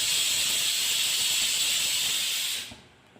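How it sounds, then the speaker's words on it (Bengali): A pressure cooker holding kidney beans lets out a loud, steady, high steam whistle that hisses on continuously up close, then cuts off abruptly, leaving faint background noise. "নিয়ে প্রেসার কুকারে রাজমাগুলো সিটি দিয়ে দিলাম।"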